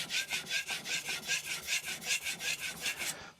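A Tojiro kiritsuke knife is pushed back and forth on an Arashiyama 1k whetstone with light pressure, making close, even rasping strokes, about four per second, in a quiet room.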